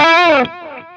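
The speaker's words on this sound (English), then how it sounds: "I want a bit of a slower delay here" An electric guitar through a Line 6 Catalyst 100 amp with a slow delay: one bright, distorted bent note rings out, then a quieter echo repeats it and fades.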